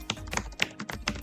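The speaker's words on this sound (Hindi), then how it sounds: "यहाँ पर मैं एक बार टाइप भी कर देता हूँ" Someone types on the keyboard of an ASUS Vivobook Pro 14X/16X OLED laptop, producing a run of quick, irregular clicky keystrokes close by and clearly audible alone.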